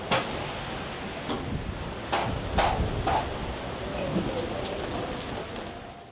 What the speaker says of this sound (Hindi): इस्लामाबाद समेत मुख्तलिफ मकामात पर मूसलाधार बारिश।